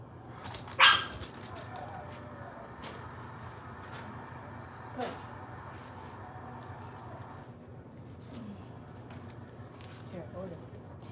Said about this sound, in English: the puppy is like barking constantly